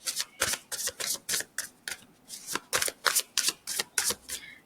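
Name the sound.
tarot cards being shuffled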